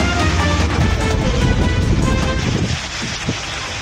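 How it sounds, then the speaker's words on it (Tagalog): Heavy rain pours in a loud, steady rush, mixed with wind noise, easing slightly toward the end, in Gonzaga, Cagayan, Philippines. "nagsimulang bumuhos ang malakas na ulan sa Gonzaga, Cagayan"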